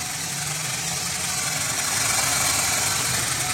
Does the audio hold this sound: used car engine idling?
yes